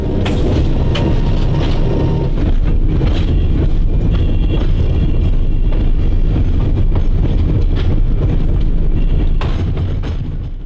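An Alco locomotive and its train roll slowly along rail tracks running down the middle of a street, a loud, close, continuous rumble with metallic squeals, clanks and rhythmic wheel clatter, no talking.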